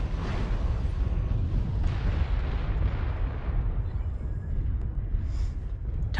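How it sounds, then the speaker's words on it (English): Missile explosions and rumbling blasts in the mech combat game Mechwarrior Online, a dense, continuous roar of booms and detonations filling the whole stretch at steady loudness. "Incoming missile."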